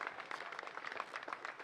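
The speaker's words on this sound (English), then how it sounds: "Considering the claps." Spectators applauding at a disc golf tournament, a soft, steady patter of scattered claps from a modest crowd, heard at a distance for a couple of seconds.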